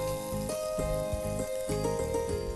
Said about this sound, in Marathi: हे वाटाणे आपण आता परतून घेणार आहोत.